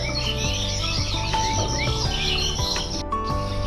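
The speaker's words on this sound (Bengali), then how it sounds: "আমাদের এখানে জাস্ট পাখিদের আওয়াজটা তোমরা ফিল করো আওয়াজটা কত সুন্দর" Morning birdsong around a house: several birds chirp and trill continuously in close, bright overlapping calls, with a low steady hum underneath and no talking.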